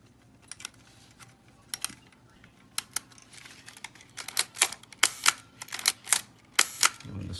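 A black Nikon F 35mm film camera fires its shutter at slow speeds. A series of crisp mechanical clicks and clacks starts sparse and soft, then becomes louder and more frequent, heard close with no talk.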